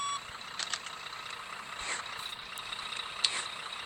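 A truck reverses in the driving game Grand Truck Simulator, its backup alarm sounding in faint regular beeps over a low idling engine hum, with a short hiss like an air brake.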